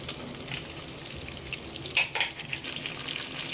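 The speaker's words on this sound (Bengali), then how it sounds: "প্রথমেই আম্মু এখানে পেঁয়াজের সাথে গরম মশলা ভেজে নেবে" Whole garam masala spices such as bay leaf and cardamom fry with onion in hot oil for chicken bhuna, producing a continuous close sizzle with a short clatter of stirring partway through.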